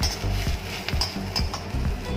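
Onion tadka frying in a pan, a steady close sizzle with occasional metallic clinks and stirring scrapes, loud and continuous without talk.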